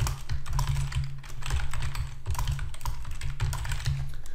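Computer keyboard typing, a quick run of light key clicks in uneven bursts, close and alone with no voices.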